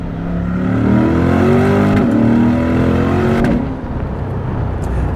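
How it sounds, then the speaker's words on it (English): A C8 Corvette with a dual-clutch transmission accelerates hard from 40 mph in second gear, its engine roaring loud and close, climbing in pitch through quick upshifts. "The car is so smooth in its power delivery and its dual clutch transmission shifts that it is hard to realize that you are accelerating as fast as you are"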